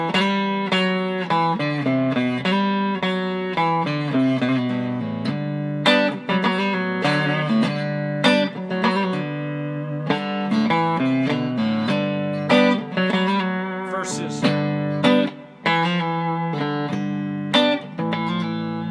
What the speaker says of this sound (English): if we were just to play a regular G natural scale over the top of a G, it would sound like this.